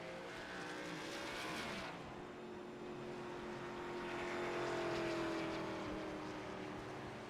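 A race car at a motorsports event at World Wide Technology raceway comes down the back straightaway, its engine drone rising and falling across the whole stretch, loud and steady with no talk.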